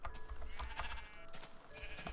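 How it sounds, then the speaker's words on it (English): Sheep in the video game TerraFirmaCraft bleat in a few wavering, nasal calls, loud and close, one after another over about two seconds. "Ooh, sheep. Good."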